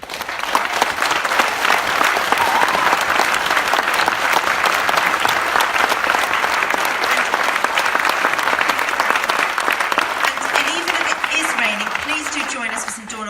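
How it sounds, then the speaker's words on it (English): Rally crowd in Swindon applauding at a Jeremy Corbyn event, loud sustained clapping that stays thick and even before thinning toward the end, with a voice faintly emerging at the close. "I want to do another big round of applause, please, for Jeremy and for Kate"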